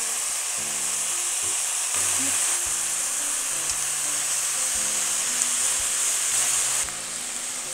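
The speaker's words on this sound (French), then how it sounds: "je mets des tiges de chou chinois" Chinese cabbage stems sizzle loudly in a hot pan, a steady, dense frying hiss with scattered stirring scrapes and clatter running throughout.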